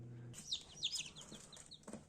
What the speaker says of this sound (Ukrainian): А тут у нас є наші курчатка